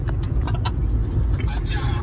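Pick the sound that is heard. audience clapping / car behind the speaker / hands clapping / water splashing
car behind the speaker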